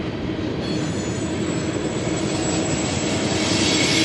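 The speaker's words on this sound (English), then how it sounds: "The train's still going, it's not stopping." A train rumbles steadily past nearby along Route 66, a continuous loud roar of wheels on rails with a faint high squeal, no talking.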